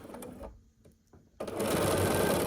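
Sewing machine stitching pieced quilt blocks for a nine-patch, starting with brief handling sounds, then a short pause before the motor kicks in with a loud, steady close hum.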